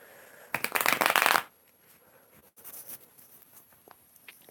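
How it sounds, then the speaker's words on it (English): Tarot cards shuffled close by in one loud, steady riffling burst lasting under a second, followed by quieter intermittent card taps and light handling noises. "It feels good when you shuffle, like it goes perfect."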